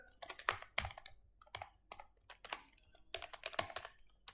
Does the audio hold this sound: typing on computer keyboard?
yes